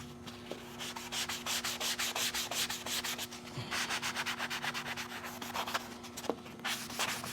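Close, steady rubbing strokes of a 150 grit sanding sponge on car paint, where the adhesive from fitting rear windows to a Testarossa replica had burned in. The strokes come in a rapid even rhythm, loud and alone.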